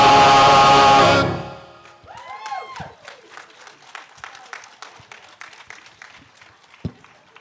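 An audience at a community sing-along applauds in a loud, dense burst that quickly dies away into scattered individual claps and light crowd murmur.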